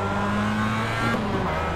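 A Mazda MX-5 Cup race car in iRacing at Okayama, its engine droning steadily at high revs with a nearby car passing close alongside, loud and continuous.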